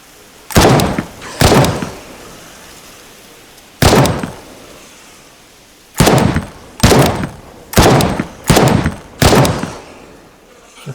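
Eight loud gunshots in a horror-style shooter video game, fired at monsters: single sharp cracks with short decays, two early, one alone, then five in quicker succession.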